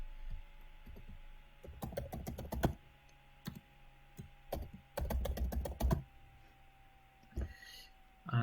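Someone types a password on a computer keyboard in quick clusters of close, crisp keystrokes, separated by short pauses and a few isolated clicks.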